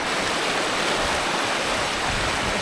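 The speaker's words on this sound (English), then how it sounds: "We just rolled up on this spring, came around the corner, and it is flowing some water right now." Spring water pours steadily into the Suwannee River in Florida, a dense continuous rushing and gurgling wash, close and loud without pause.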